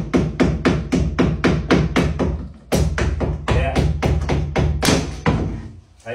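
Baseboard being pried off a wall with a screw, heard as a close run of rapid knocking thuds, a short pause, then another burst of firm, uneven knocks.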